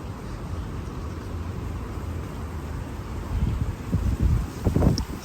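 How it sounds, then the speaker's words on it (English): Strong wind blows outdoors on a windy day in Thailand, a continuous broad rushing roar buffeting the microphone, growing louder with heavier gusts and rustling toward the end, with no voices. "Here, so windy, so windy. In Thailand."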